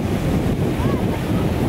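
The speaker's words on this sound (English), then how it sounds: "Waves are not that great because it's kind of windy" Loud rushing wind buffets the microphone over the roar of ocean waves breaking nearby on a beach in Baler, Philippines.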